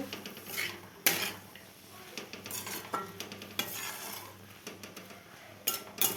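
Greens cooking with salt and fish oil are stirred in a pan, with repeated scraping strokes of a spatula against the metal over a soft, steady sizzle at moderate distance.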